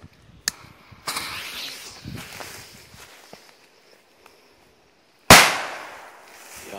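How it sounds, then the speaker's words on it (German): A large Chinese firecracker, the China Böller D, bursts with one loud, sharp blast near the end, preceded by quieter shuffling footsteps, small clicks and rustling as it is set down and lit. "Machen wir gleich weiter mit dem Beko China Böller D"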